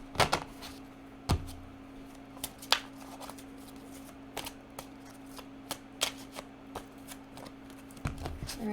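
A Prism Oracle card deck is shuffled during a tarot reading, producing soft, irregular riffling clicks and taps up close. A steady low hum runs beneath the shuffling, and no one speaks.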